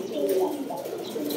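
Pakistani pigeons coo in low, soft, rolling phrases that carry steadily through the whole moment, close and moderately loud, with no talk over them.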